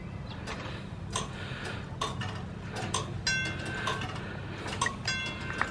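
Wigwag magnetic flagman railroad crossing signal, a regular metallic ticking and clanking at a steady pace over a low background rumble, moderately close.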